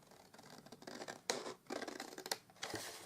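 Scissors snip through paper or card for a handmade hamper gift box in a series of close, quiet cuts, with irregular slicing strokes and rustling between them.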